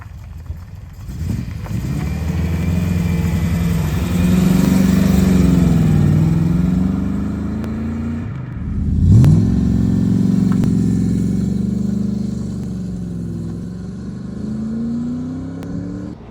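Triumph Stag V8 cruising at 60 mph in overdrive at about 2,200 rpm, a steady low engine drone with road and wind noise from inside the car, with a gentle rise in pitch partway through.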